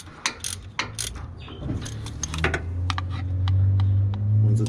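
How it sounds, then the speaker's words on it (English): A ratchet clicks in quick bursts while tightening the 14mm belt tensioner bolt on a Toyota 22RE pickup engine, close and crisp, with a low rumble rising toward the end and no talk. "Once the belt is on, you have to tighten the bolt to put the tension on, which is a size 14mm."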